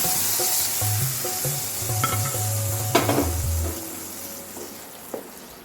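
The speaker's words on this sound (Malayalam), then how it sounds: "അണ്ടിപ്പരിപ്പൊക്കെ കളർ മാറിയിട്ടുണ്ട് നമുക്ക് ആ നെയ്യോട് കൂടി ഇതിലേക്ക് ഒഴിച്ച് കൊടുക്കാം" Ghee-fried cashews poured into a pan of sabudana kheer set off a loud, steady sizzle and crackle, with a few stirring clinks and scrapes of a metal utensil against the pot; no one speaks.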